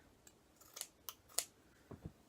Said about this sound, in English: You get down to the bottom of the shirt where the hem is of the bottom. You will cut that in half.